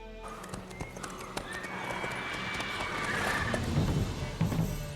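Roach the horse gallops in The Witcher 3, hoofbeats drumming steadily under a swelling musical score for several seconds, with no talk.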